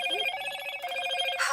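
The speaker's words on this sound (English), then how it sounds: "That's my parents' phone. They use the loudest ringtone available so they can hear it." A landline telephone rings with a very loud ringtone set to maximum volume, a continuous close electronic trill filling the moment with no talking.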